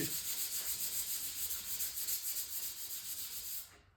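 Steady hand sanding of a classic car fender, a continuous abrasive rubbing that runs evenly for several seconds, then stops abruptly near the end.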